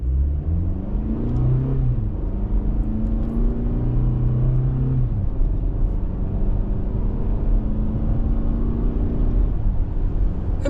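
Interior engine noise from a 2024 Toyota Camry LE AWD with a 2.5-liter four-cylinder, a steady droning rumble under load with rising and falling engine tones as it accelerates, heard from inside the cabin without talk.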